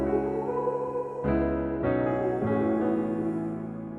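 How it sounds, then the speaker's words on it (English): Piano played through the Arturia Arcade plugin with no effects, dry and close, sustained chords changing every half second or so, with no voices. "let's say I just played the piano right here with the Arcade without the effects"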